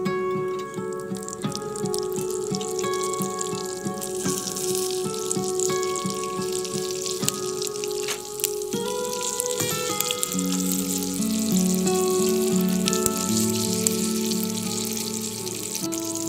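Steady crackling sizzle of capsicum frying in a pan with spices for stuffed capsicum, close and continuous, with faint background music and no speech.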